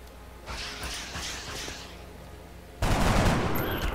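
Gunfire in the video game X-Com Reimagined: a few scattered sharp shots, then a sudden loud, dense burst of fire that keeps going to the end.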